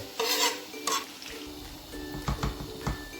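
Chopped garlic frying in a little oil in a pan, with a soft sizzle under clinks and scrapes of a utensil stirring against the cookware, heard close with no speech.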